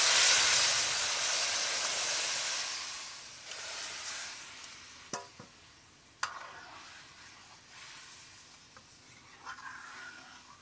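A hot mustard paste tempering sizzles loudly in a pan for a few seconds, then the hiss fades to a quiet simmer broken by a couple of sharp clicks. The tempering is for a sweet dish of coconut milk and ripe cucumber.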